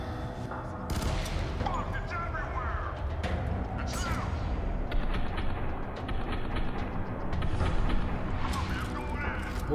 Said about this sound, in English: Oh, we're gonna have a little shootout, it looks like.